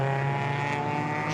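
F3 race cars accelerate through the Schwantz curve at Donington in poor visibility, a strong tonal engine whine with buzzing harmonics, loud and steady over a brief moment, no voices.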